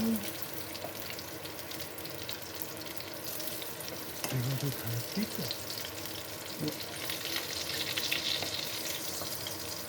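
Meatballs frying and sizzling in a pan, a steady hiss with a few scraping stir sounds midway, close and moderately loud, with faint kitchen background.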